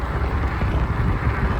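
Steady wind roars across the microphone in a brief, loud, unbroken rush outdoors during a fat tire e-bike ride.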